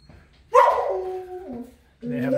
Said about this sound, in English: They have a nice puppy.